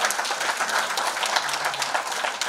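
Audience applause for a professor at a university AI book launch, dense and sustained clapping from a large crowd, fairly close and loud, with no pause.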